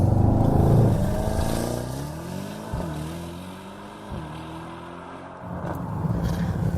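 A Mercedes-AMG E63 4MATIC launches hard from a race start, its engine roaring and climbing through rising revs with brief dips at quick upshifts, loud and close throughout.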